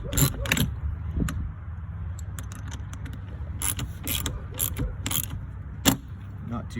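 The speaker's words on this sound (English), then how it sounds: "use your ratchet to tighten everything back up" A ratchet tightens the parts of a Covermate 3 cover lifter, with bursts of sharp metallic clicking and creaking separated by short pauses, close at hand.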